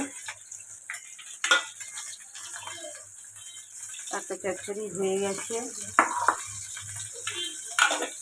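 Fish frying in a pan with oil, crackling and sizzling up close alongside scattered clinks and splashy kitchen sounds, with a voice speaking at moments.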